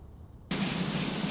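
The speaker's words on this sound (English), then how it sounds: "sometimes you need that really powerful spray" A pressure washer in the video game PowerWash Simulator 2 kicks in suddenly and then sprays as a steady, loud hiss after a moment of quiet.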